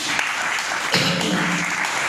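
A church congregation applauding during an evangelical service, a short burst of dense, steady clapping filling the hall without any talking.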